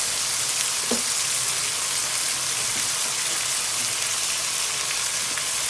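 Vegetables stir-frying in a hot pan for homemade jjajang, giving a dense, even hiss that holds steady throughout, with one brief knock of a utensil early on.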